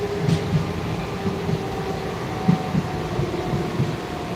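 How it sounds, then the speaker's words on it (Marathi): Inside a nearly empty carriage of the last local train to Panvel late at night, a steady rumbling drone runs throughout with periodic soft clunks of the wheels over rail joints, and no one speaking. "त्या लास्ट ट्रेनमध्ये मी पनवेलला चाललो आता"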